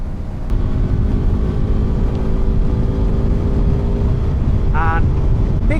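BMW F 450 GS Trophy motorcycle engine running steadily while riding at moderate revs, a continuous low buzzy hum with wind rush and a brief whine near the end.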